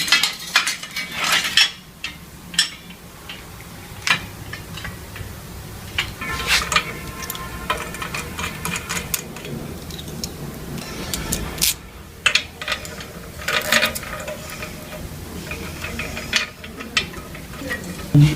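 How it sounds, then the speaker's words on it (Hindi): A metal stand for a solar panel, rated for about 100 kilograms, being bolted together and tightened, with repeated close metallic clinks, taps and scraping clatter in irregular bursts throughout. "ये स्टैंड को लगाया जा रहा है, कसा जा रहा है अभी"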